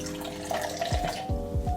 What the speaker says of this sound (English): We're going to pour a small amount of our Red Bull into that.